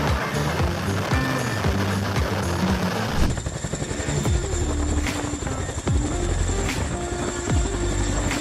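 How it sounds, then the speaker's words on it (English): A firefighting helicopter roars loudly and steadily nearby, its dense rotor and engine noise shifting midway into a rhythmic chopping thump with a high turbine whine above. "Firefighting helicopters are a game changer for battling forest fires."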